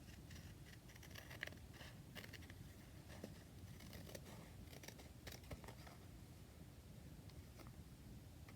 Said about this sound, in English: And then we'll trim off all of these